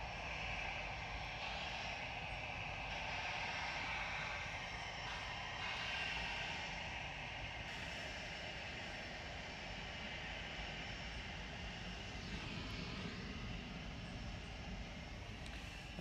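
An Etihad Boeing 777 spools up its jet engines at Manchester Airport, a steady, distant broadband roar with a faint whine that holds evenly throughout.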